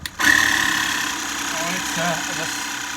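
A 12V portable tyre inflator pump clamped onto a valve starts up and runs with a steady, buzzing mechanical drone, close and continuous after a brief click at the start.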